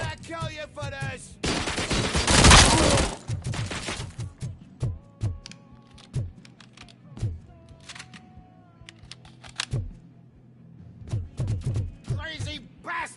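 Automatic gunfire in the video game RoboCop: Rogue City hammers out in a long loud burst, then gives way to scattered single shots and impacts, with shouting voices cutting in between.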